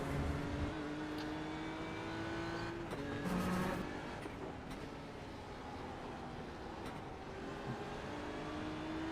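A BMW GT race car in the iRacing sim at Brands Hatch heard from on board, its engine droning steadily with gear changes and rising pitch sweeps while other cars in a four-car pack run close by.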